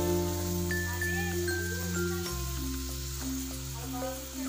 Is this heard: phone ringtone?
no